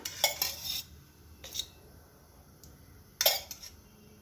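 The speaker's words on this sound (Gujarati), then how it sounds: "ગેસ ચાલુ કરી અને એક કઢાઈ મૂકીશું" A metal kadai is set down on a gas stove, giving several sharp, close metallic clanks and rattles in short bursts separated by near silence.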